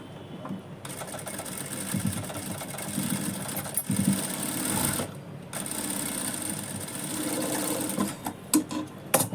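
A sewing machine stitching a blouse lining runs in a steady, close, continuous whir, dropping out briefly twice before starting again, with a few light clicks near the end.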